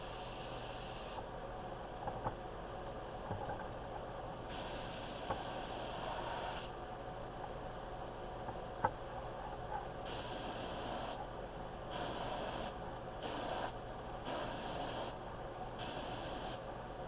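An aerosol spray can hisses in repeated bursts while a guitar headstock is refinished, starting with two long sprays and ending in several short quick ones, close and steady with no talk.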